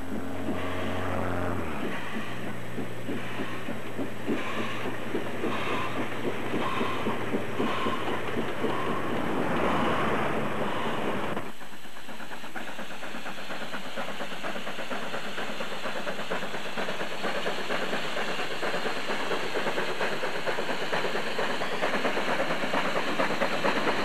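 Steam train KA-945 works along the Raurimu Spiral track, its engine rumbling and chuffing with a rhythmic beat and steady hiss, loud and close; midway the sound shifts to a continuous rail clatter and rushing noise.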